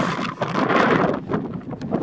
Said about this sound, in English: It's windy out here, man.